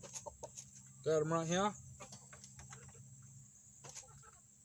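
Chickens in a coop, with one near, loud squawking cluck lasting about half a second amid quieter scattered clucks and rustling; a person speaks briefly.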